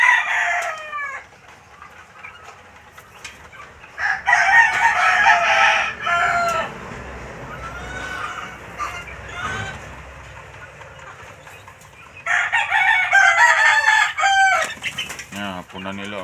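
Several gamefowl roosters crow repeatedly nearby, loud drawn-out calls in bursts with clucking and some wing flapping between them.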